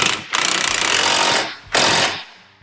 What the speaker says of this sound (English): we're going to go ahead and snug up these bolts that hold the control arms in place